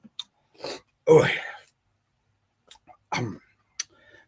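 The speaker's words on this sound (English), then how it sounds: "coughing and hacking and wheezing over here" A few short, rough coughs and breathy bursts, close by, separated by silences.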